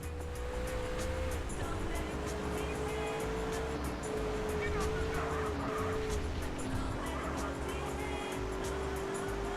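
A car speeds along in GTA San Andreas, its engine droning steadily throughout with shifting pitch as it accelerates, loud and continuous over a busy background.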